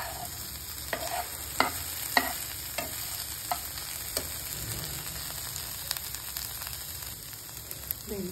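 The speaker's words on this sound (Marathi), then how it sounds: "असं भेंडी फ्राय करून घ्या।" Okra frying in a pan gives a soft, steady sizzle with intermittent clicks and taps of a spatula stirring, fairly quiet and close, without any talking.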